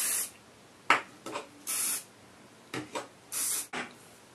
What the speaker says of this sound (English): I'm just gonna randomly spritz hairspray